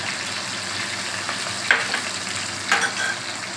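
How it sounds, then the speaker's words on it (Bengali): Chicken curry pastes of garlic, tomato and onion with slit green chillies sautéing in hot oil, a steady close sizzle with a couple of scraping stirs of the spatula, no voices. "কষবো যতক্ষণ না তেলটা না ছাড়ে"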